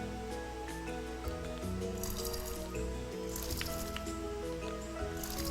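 Short splashing, trickling bursts of water pour out a few times as crops are watered in the video game Wild Season, over steady, upbeat game music.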